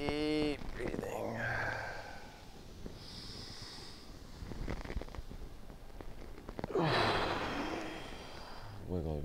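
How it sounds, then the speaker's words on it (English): Deep breathing during a KAATSU yoga session: slow, audible inhales and long, forceful exhales close to the microphone, with a voice speaking quietly in between the breaths. "Reaching forward, nice, deep breathing."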